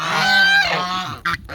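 Geese honking loudly and close by, a single dense burst of overlapping nasal calls followed by one short sharp honk.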